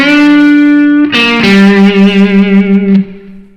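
Slow electric blues guitar lick with slides between notes, a few sustained, ringing notes with a bit of grit and reverb, loud and close, fading out at the end, no voices.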